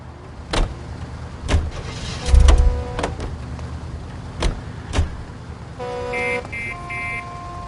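Car in the video game L.A. Noire: sharp thumps and clicks like doors and handling noises over a low engine rumble, followed by steady electronic tones toward the end, with no talking.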